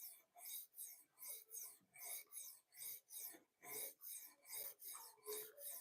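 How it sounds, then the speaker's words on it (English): Pocket knives being sharpened, with steady rhythmic rasping strokes of a blade drawn across a sharpening stone, about a dozen evenly spaced passes, close and fairly loud with no talking. "We are sharpening some pocket knives tonight."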